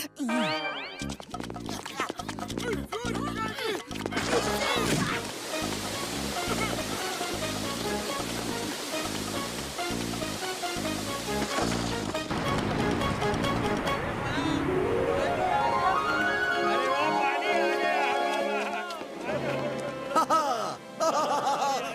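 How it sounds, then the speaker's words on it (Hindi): Cartoon waterfall water rushing in, a loud broadband gushing roar that swells and keeps pouring, with music, comic sound effects and a rising tone layered over it. "झरने का पानी आ गया"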